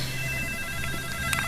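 A cellphone rings in a domestic drama scene, its tonal ringtone chiming faintly over a steady background hum, with a brighter burst near the end and no voices.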